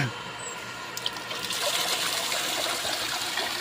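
Water from a deep well pump on farmland in the Philippines gushes and splashes steadily at close range, a continuous bright rushing flow that grows slightly stronger after the first second.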